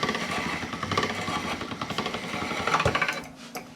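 Tomato pasta dough is fed through a pasta machine, giving a rapid mechanical whirring and rattling that pulses steadily for a few seconds at moderate loudness and then eases off.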